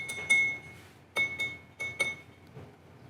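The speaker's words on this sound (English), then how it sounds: "it might have something to do with the highest pitch that the glass could possibly make" Drinking glasses holding different amounts of water are tapped in a fourth-grade class demonstration. Several sparse, faint clinks ring out at a high, clear pitch, with brief gaps between them.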